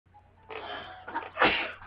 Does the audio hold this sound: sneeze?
yes